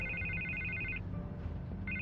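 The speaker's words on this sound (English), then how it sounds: "I can't get the phone to stop ringing." Telephone ringing in Batman: The Telltale Series, a warbling electronic ring that sounds in a long burst, pauses, then starts again over low background music.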